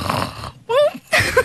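A person in a radio studio imitates snoring with the voice, giving two short, loud, rasping snore-like bursts separated by brief pauses.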